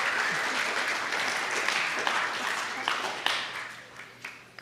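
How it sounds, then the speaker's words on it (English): A room full of listeners at a Saturday public science talk on autonomous sensors breaks into applause, dense clapping that thins out and fades toward the end. "There's a round of applause in here."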